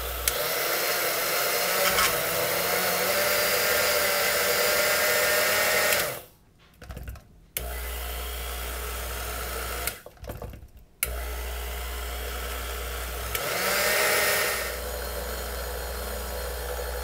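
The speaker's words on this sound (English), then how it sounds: "To this blender, I'm going to add just a little bit of sugar, call it about a cup, and we're going to grind this down in with the lemon essence." A kitchen blender grinds about a cup of sugar with lemon zest, whirring loud and steady for several seconds, then stopping briefly twice before restarting.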